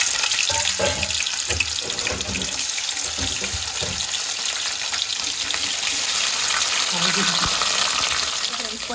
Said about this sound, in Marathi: पनीर घातला खरें म्हटल्यार मातसो भाजूंक टायम लागता हेका